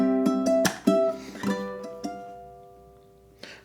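A ukulele plays a short bar mixing muted percussive chucks with plucked notes, clear ringing tones decaying as the phrase trails off, with a final soft strum.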